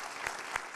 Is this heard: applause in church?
yes